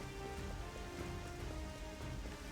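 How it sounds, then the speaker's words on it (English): Poison rain falls steadily in Octopath Traveler 2 as a continuous hiss of rain on surfaces, soft and even beneath a low musical background, with no voices. "Oh, so it's already poison rain."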